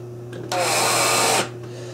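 A power driver sends a thin Gyprock screw into a homemade wooden toy International TD20 bulldozer, a single close whirring burst lasting about a second over a steady low hum.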